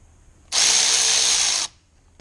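A power drill winds screws out of a broken boost pipe on a VW or Seat car in a garage: one loud, steady whirring burst of just over a second, with no talk.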